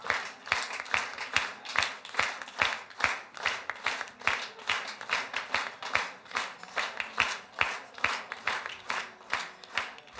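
Rhythmic, synchronized clapping from a club audience at an album launch concert, steady beats about twice per second over ten seconds, moderately loud and even, with no talk.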